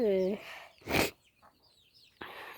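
Chickens on a farm that also keeps goats, cows and ducks: a short clucking call, then a sharp burst of rustling or flapping and softer scattered sounds, close to the listener.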